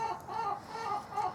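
A hen clucks in a few soft, repeated bursts at close range on a farm, with no talk over the sounds.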